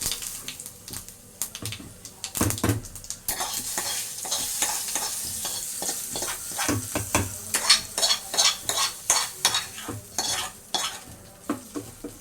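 Onion chutney tempering as it fries and sizzles in a pan, with a steady crackling hiss broken by repeated clinks and scrapes of a ladle stirring, close and fairly loud, with no talking.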